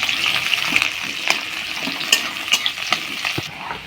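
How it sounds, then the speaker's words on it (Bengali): Chopped onions fry with a steady sizzle in hot oil in a wok, while the ladle scrapes and stirs them in repeated clinks and sharp scrapes, close by and with no talk. "পেঁয়াজটা লাল লাল করে হালকা ভেজে নিয়েছি"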